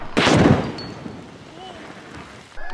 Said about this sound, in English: We're gonna find out what's gonna happen if you shoot an oxygen tank in your truck.